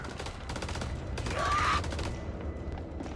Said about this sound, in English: This man shot a grenade launcher.